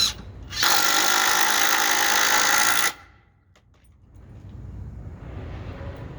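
A DeWalt impact driver drives a screw in one loud, sustained burst of rapid hammering whine lasting about two seconds, close up, then stops and leaves a low background hum.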